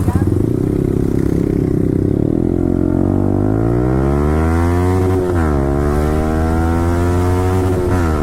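Yamaha R15 V4 motorcycle fitted with an Akrapovic exhaust, ridden on a road, its engine loud and close with rising and falling revs through downshifts, continuous for the whole stretch.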